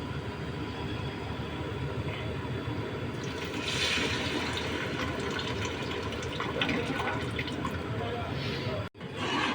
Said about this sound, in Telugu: ఈ దీనిలో కలుపుకున్న చింతపండు పులుసు పోసుకుందాం.